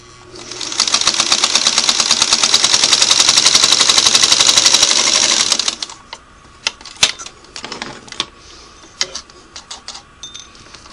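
A Singer Model 301A sewing machine runs fast and steady for about five seconds, its needle clattering in a dense rapid rhythm, then stops, followed by scattered clicks and handling noises.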